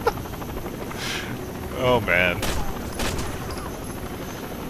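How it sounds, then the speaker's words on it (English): In the video game Rainbow Six: Vegas 2, a helicopter's rotor drones steadily throughout, broken by sharp bursts of gunfire, with someone briefly speaking over it. "The helicopter must land here."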